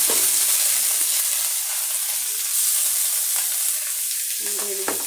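Small fish tipped into a hot pan with curry leaves and chopped onion, frying with a loud, steady hiss and sizzle; a few scraping and clinking utensil sounds rise over it near the end.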